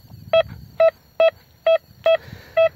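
A metal detector gives six short, identical electronic beeps over a buried target during a misty morning outdoor hunt; the beeps come at an even pace, loud and close, over faint background rustle.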